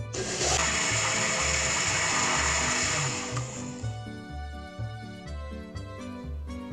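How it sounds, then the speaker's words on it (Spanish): A blender grinding soaked rice whirs loudly and steadily, its motor grinding hard with a gritty, churning texture that eases slightly toward the end. "lo vamos a moler en la licuadora"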